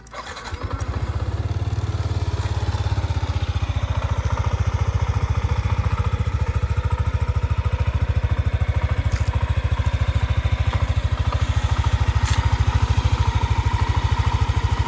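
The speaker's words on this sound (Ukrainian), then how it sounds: "давайте заведемо, послухаємо двигун" A Yamaha NMax 125 ABS scooter engine starts with a short crank, then idles steadily and loudly at close range with an even, low putter throughout.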